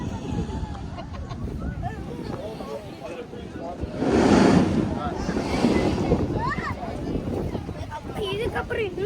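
Seawater surges and splashes from the blowhole at Mughsail Beach in Salalah, Oman, swelling into a loud rushing burst midway through, amid wind buffeting the microphone and a person talking throughout.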